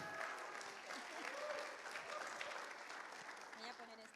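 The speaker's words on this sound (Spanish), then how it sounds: "Un aplauso para Oli." Quiet applause for Oli at a church gathering, a soft, distant patter of clapping that continues evenly throughout, with faint voices underneath.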